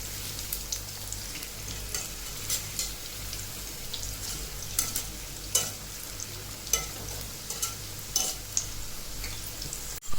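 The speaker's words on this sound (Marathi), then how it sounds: "चांगले ब्राऊन कलर होईपर्यंत चांगले तळून घ्यायचे" Crispy corn fritters (bhaji) deep-fry in oil over a medium flame, a continuous close sizzle with scattered crackling pops and occasional stirring clinks, no speech.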